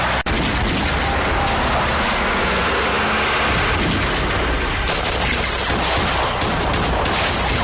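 Heavy gunfire in a TV drama battle scene, dense loud bursts of shots and booms rolling continuously without pause.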